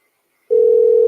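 A steady telephone dial tone cuts in abruptly about halfway through after near silence and holds loud and unbroken to the end, heard while placing a call.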